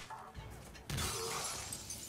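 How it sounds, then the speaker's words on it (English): A frozen enemy shattering in the Mass Effect 3 video game, a sudden loud burst of breaking glass-like crashing that follows a quieter lead-in and rings on with scattered debris, no talk over it. "he just shatters"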